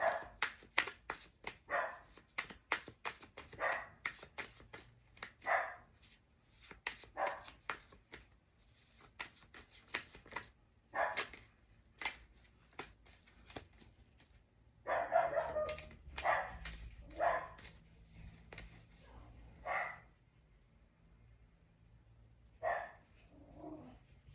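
A dog barks repeatedly indoors in bursts of sharp barks and yips, some whimpering between them, loud and fairly close, with no one speaking.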